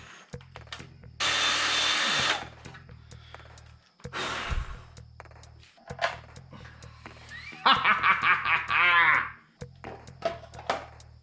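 A drill bores through Honda Fury motorcycle plastic in one loud, close burst of about a second, followed by scattered handling noises and short vocal sounds.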